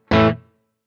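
A single distorted electric guitar chord through a Fractal unit with 3.6% reverb, struck once and loud, then cut short with only a faint, brief tail.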